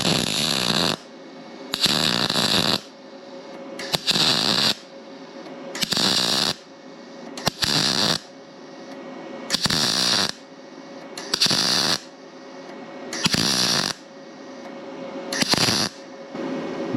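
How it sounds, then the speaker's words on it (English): A Yes Welder machine MIG welding at 16 volts gives a loud, close, steady crackling hiss in eight evenly spaced bursts of about a second each, separated by short quiet gaps. "Very flat, very controllable welding."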